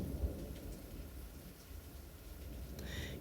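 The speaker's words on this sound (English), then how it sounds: "Thought I'd just let you listen to the rain and thunder." Steady January rain hisses throughout while low thunder rumbles in the background, distant and fairly faint, with no voices.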